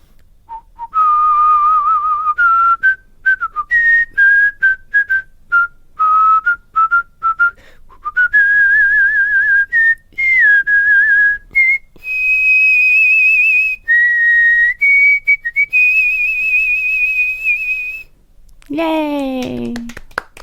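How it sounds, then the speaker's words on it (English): A person whistles a wandering melody of short and sustained notes, loud and close, sliding through pitches, ending with a brief rising and falling squeak. "Here's what my whistling sounds like."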